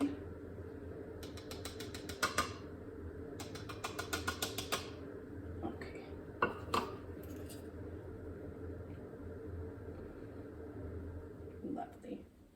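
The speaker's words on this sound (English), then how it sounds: "So let's sift this in." Desiccated coconut sifted through a metal sieve for homemade chocolate, heard as quick rattling, scratchy tapping bursts in short clusters, fairly quiet and close, with a low steady hum beneath and soft speech nearby.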